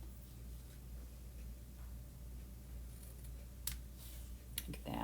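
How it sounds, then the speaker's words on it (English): Scissors trim the edge of a handmade paper greeting card at close range, giving a few quiet, crisp snips against a soft background hum. "I'm going to trim this up a little bit more."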